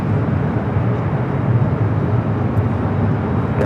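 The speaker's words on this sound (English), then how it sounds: "Let me show you the flight heading back to Warsaw, the 787-9 Dreamliner" A Boeing 787-9 Dreamliner at Los Angeles LAX airport gives off a steady, loud, broadband jet roar that holds constant throughout, with no voices over it.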